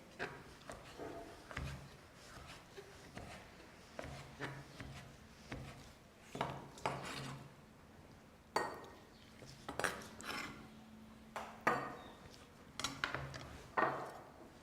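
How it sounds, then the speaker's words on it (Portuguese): Canned asparagus being cut in a home kitchen: a knife taps and clinks repeatedly on a board or dish, close and fairly quiet, in an irregular series of short strikes with no talking. "Eu vou cortar o aspargos em conserva."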